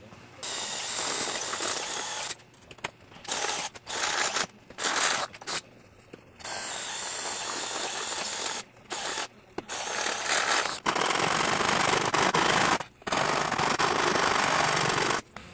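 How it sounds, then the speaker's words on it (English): Rough, repeated rasping strokes as a large hand rasp files out the inner holes of metal end caps for a mini bike muffler, coming in bursts separated by short pauses, loud and close with no talking. "we got those inner holes bored out with the big old rasp"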